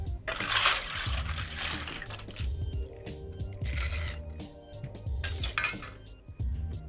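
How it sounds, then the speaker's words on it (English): Ice cubes tumble into an empty cocktail glass while a drink is being built, giving a burst of sharp clinks and rattles followed by a few lighter knocks as the cubes settle. "ice your glass."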